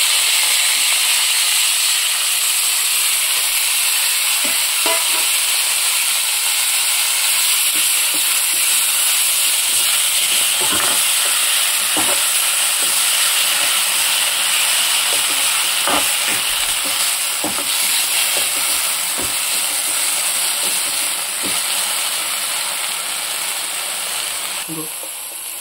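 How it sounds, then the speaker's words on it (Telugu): Coriander and mint leaves fry in a little oil while being stirred. A constant hissing sizzle carries on for the whole stretch, with scattered scraping clicks from the stirring. "ఇప్పుడు కొత్తిమీర, పుదీనాను కూడా కొంచెం ఫ్రై చేసుకుంటున్నాను."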